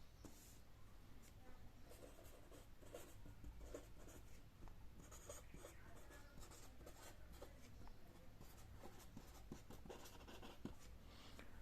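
Numbers being written on a board during a maths class on place value: long, steady scratching and tapping strokes, faint and close, continuing without pause.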